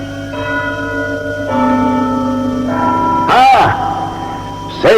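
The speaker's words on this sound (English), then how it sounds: "here's the church clock, which strikes every quarter" A church clock bell strikes in steady sustained tones during a live radio theatre murder mystery, with voices breaking in over the ringing toward the end.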